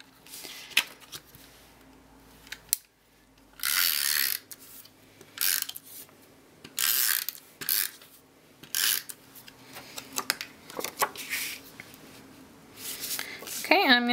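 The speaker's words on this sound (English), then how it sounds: "I'll just use my bone folder to give that a good, crisp, clean fold" A bone folder creasing Festival of Prints designer paper into a crisp, clean fold: repeated dry rubbing and scraping strokes in short bursts, close and fairly loud, with soft taps and handling noises between them.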